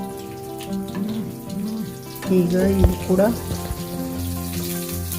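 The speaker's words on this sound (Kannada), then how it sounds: "ಫ್ರೈ ಮಾಡ್ತಾಯಿದ್ದೀನಿ." Cucumber and ridge gourd bajji fritters frying in hot oil, a soft continuous sizzle and light crackle beneath a voice speaking close by.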